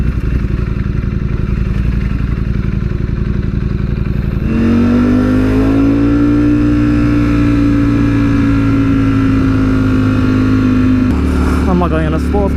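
A Ducati Streetfighter V4S motorcycle engine drones loudly while being ridden, a steady close rumble that rises into a sustained higher rev, holds it, then drops back near the end with some clatter.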